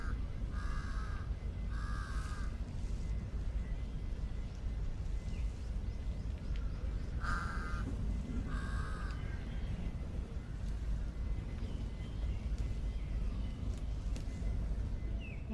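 Crows caw in paired harsh calls, repeated a few times at moderate distance, over steady outdoor ambience in a Bangkok park.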